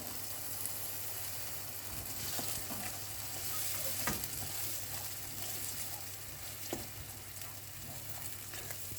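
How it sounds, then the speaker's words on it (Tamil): Ingredients for a prawn coconut curry sautéing in oil in a pan, a continuous close sizzle and crackle with occasional soft stirring clicks and scrapes throughout. "அந்த வரைக்கும் இதை நல்லா வதக்கிக்குங்க"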